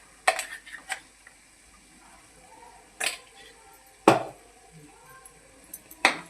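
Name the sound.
stirring and sautéing ground black peas in a pan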